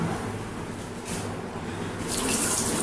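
Taro being rinsed under a running kitchen tap before cooking pork sinigang, a steady close splash of water over the vegetables that swells slightly toward the end, with no talking.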